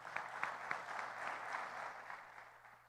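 Church congregation applauding during a family worship service, a soft, steady patter of many hands clapping at a distance, fairly faint and continuous with a few sharper claps near the start.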